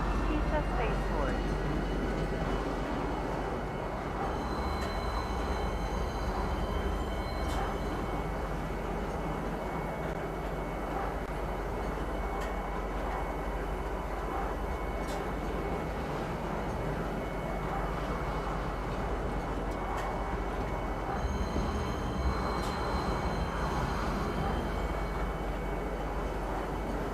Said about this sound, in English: Arriving, TISA Spaceport. Please watch your step when disembarking the train.